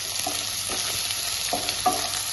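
Chopped onion and three green chilies frying in a pan for upma, a steady close sizzle with a few soft stirring scrapes of a spoon against the pan, no voices.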